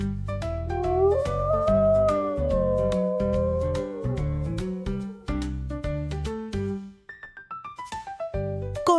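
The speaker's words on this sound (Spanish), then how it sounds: "Correcto, es el lobo." A wolf howls in an animal sound guessing game, long rising and falling tones that waver for several seconds before a string of shorter sliding calls near the end.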